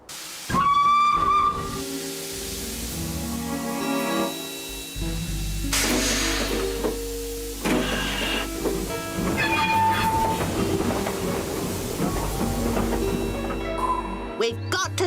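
A steam whistle sounds at the start, followed by hissing steam and the chuffing clatter of a train rolling past, with overlapping tones throughout.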